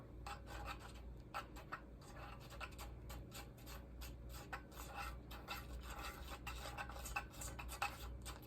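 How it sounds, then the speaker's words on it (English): Light scraping and rubbing of a wooden toothpick stirring craft paint or dye in a small container, a steady close-up scratchy swirl with repeated brief clicks against the sides, no voices. "I'm just gonna use a toothpick. But basically all you do is just mix it up"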